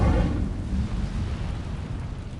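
A fire spell is cast in a Harry Potter video game, a loud whooshing burst that flares up at once and then settles into a rumbling, roaring flame sound that fades gradually.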